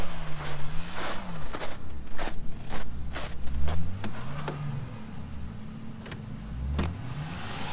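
A Dodge Grand Caravan towing a trailer tries to reverse, its engine straining and whining up and down in repeated surges, with scattered knocks and clicks nearby.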